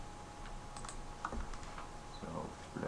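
A few light clicks of a computer keyboard key, pressed while working in RealFlow 3D simulation software, sound close and sparse over a low steady room hum with no talking.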